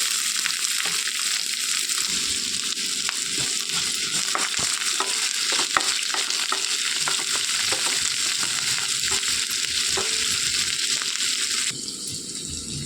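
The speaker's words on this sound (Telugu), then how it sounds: "కొద్దిగా ఆవాలు, ఎండుమిర్చి, కరివేపాకు, సన్నగా తరిగి పెట్టుకున్న ఉల్లిపాయలు వేసి వేయించుకోవాలి." Onions, mustard seeds, dried red chillies and curry leaves fry in a pan for a carrot and chana dal stir-fry, giving a steady loud sizzle with occasional stirring scrapes and crackles throughout, no talking.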